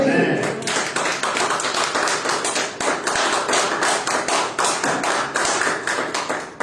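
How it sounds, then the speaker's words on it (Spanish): A church congregation at a Friday teaching service claps for Christ, a loud, rhythmic run of sharp, evenly spaced claps that carries on steadily with a voice over it. "den un aplauso a Cristo"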